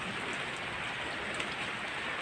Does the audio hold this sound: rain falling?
yes